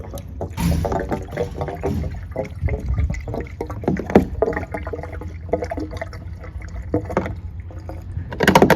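CRC Guaranteed to Pass Emissions System Cleaner poured from a bottle into a half-full car fuel tank, a steady gurgling liquid stream running close and continuous for several seconds with no talk.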